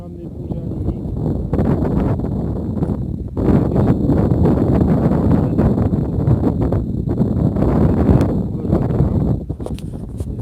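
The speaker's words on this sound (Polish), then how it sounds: "Wieje nam trochę" Wind buffets the microphone in loud, rumbling gusts throughout, with a few brief drops and rustling underneath.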